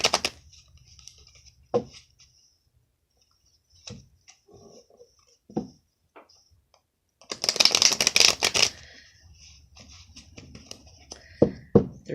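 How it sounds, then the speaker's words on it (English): Tarot cards being shuffled by hand, with short papery riffles early on and a louder, dense burst of shuffling in the middle, then softer card handling toward the end; no talking. "Let's give it a few shuffles so that we don't pull the exact same cards that we pulled for the masculine."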